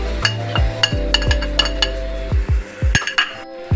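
A spoon knocks and scrapes against a metal pan while dry spices and green chillies are mixed in for chicken cheese paratha, a series of sharp close clinks in an uneven rhythm.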